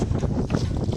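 Strong gusting wind buffets the microphone during a boat ride on Gadisar Lake in Jaisalmer, a steady loud roar with boat and water noise underneath and no talking.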